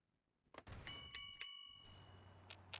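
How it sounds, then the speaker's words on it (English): A dinner bell in Fallout: New Vegas rings several bright, quick strikes after a short silence, then fades into a low hum before a couple of fainter chimes follow, fairly quiet and without voices. "What is that dinner bell I'm hearing?"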